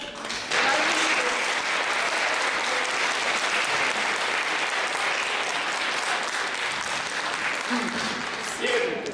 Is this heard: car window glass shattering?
no